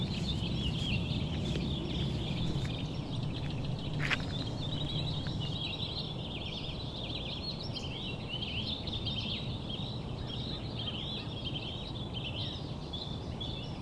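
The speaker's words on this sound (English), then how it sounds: "Walking through the village, all you can hear is a bird song" Birds chirp and twitter steadily over soft outdoor hiss in a quiet Cotswolds village among well-kept cottages and gardens, with busy high calls that go on throughout and no voices.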